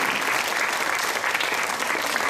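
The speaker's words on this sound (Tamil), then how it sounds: "இது ஏதோ ஜெயராமன் சாருக்கே விழுந்த கைத்தட்டா நினைக்கப்படாது" An audience at the Peetharohana Vajra Mahotsavam function in Valasaravakkam, Chennai, claps in sustained, dense applause that fills the room steadily throughout.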